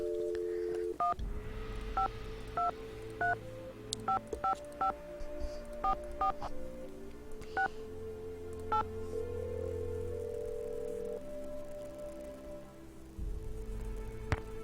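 In the Nancy Drew video game, a string of telephone keypad tones beeps out a number, short evenly paced presses, followed by a steady tone, with faint rain in the background.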